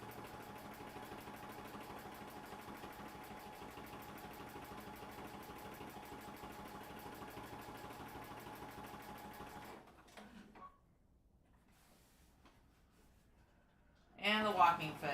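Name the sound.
sewing machine sewing on binding with walking foot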